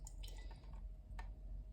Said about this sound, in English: I tend to add the water first actually because I find it easier